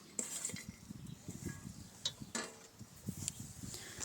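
A spoon stirs and scrapes spiced potato filling for Gujarati aloo paratha in a bowl, mashed potato mixed with red chili, turmeric, sugar, coriander-cumin powder, lemon juice, green chili and coriander, giving soft irregular clinks and scrapes close by.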